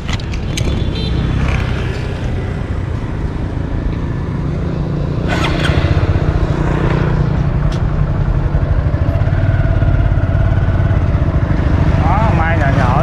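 Motorbike engine while riding through a flower market, a steady close hum with traffic and market clatter around it, and people talking over it.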